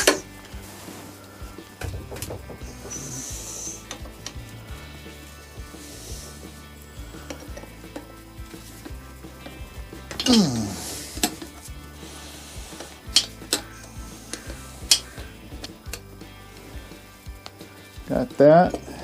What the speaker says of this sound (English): So let's get a wrench on here.